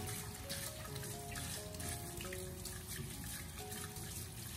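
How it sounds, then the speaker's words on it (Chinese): Tap water runs steadily while cucumbers are rinsed at a kitchen sink, a quiet, even hiss and splash that goes on with no one speaking. "我们再用流动的自来水给它清洗一下，把黄瓜给它清洗干净"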